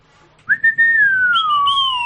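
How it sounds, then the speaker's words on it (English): A person whistles a single clear note that rises sharply, then glides slowly downward as a sustained tone, close to the microphone and loud, with no talking. "We don't have the harmonica, but I can make a whistle sound."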